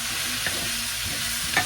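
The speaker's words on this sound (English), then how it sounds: "Continue to stir and make sure you keep enough oil in the pan." Chicken frying in oil and butter in a pan, with a steady loud sizzle throughout and a couple of soft utensil scrapes as it is stirred.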